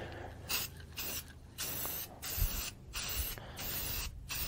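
Red gloss enamel paint sprayed from a can in a woodworking shop, several separate hissing bursts of about half a second to a second each, close and fairly loud, with short pauses between them.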